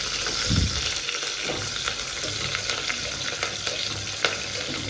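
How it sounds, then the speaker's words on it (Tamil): Curry leaves and coriander sauté with fish in hot oil for a Sunday Sankara fish curry, a steady loud sizzle with scraping stirs and an occasional sharp clink, no talking. "கருவேப்பிலை கொத்தமல்லி அதை சேர்த்துக்கலாம் சேர்த்து நல்லா வதக்கிக்கலாம்"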